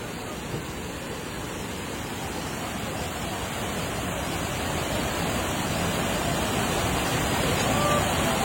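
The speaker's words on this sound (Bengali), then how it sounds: "পানি এত জোরে পড়ছে যে পাথরের উপর পড়ে আবার আলাদা মেঘ সৃষ্টি হচ্ছে।" A monsoon-swollen waterfall at Jaflong crashes onto rocks in a loud, continuous roar of rushing water that holds steady and swells slightly toward the end.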